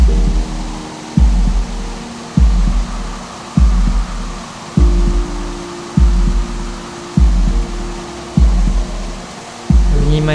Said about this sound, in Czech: Vnímej tlukot svého srdce.